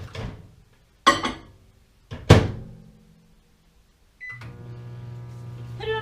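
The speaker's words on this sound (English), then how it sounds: "I'm going to put these in the microwave." A microwave oven switched on to warm deodorant ingredients, heard as a steady low hum with a faint high whine that starts after a few loud thunks and clicks of the door and buttons.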